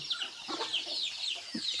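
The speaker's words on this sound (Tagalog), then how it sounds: "ito yung mga manok" Chickens cluck softly nearby in short, scattered bursts at a family home in the Philippine countryside, with high chirping from birds or insects filling the background.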